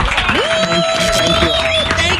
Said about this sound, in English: Y'all, please give a big round of applause and thank you.